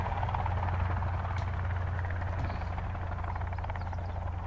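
A helicopter drones steadily with a low, throbbing rotor hum and buzzing engine, constant and unbroken throughout, in the video game Sons of the Forest.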